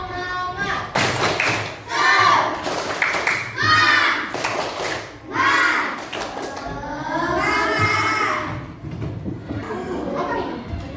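A class of children performs the tepuk semangat clapping chant with their teacher: rhythmic bursts of hand claps and thumps under loud chanted young voices, steady and close.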